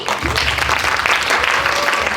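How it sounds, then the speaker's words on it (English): Loud, dense applause from an audience at a women's leadership panel at a Taiwan tech summit, steady clapping throughout the short stretch. "let's give a round of applause to our panelists and speaker and moderator, Annie."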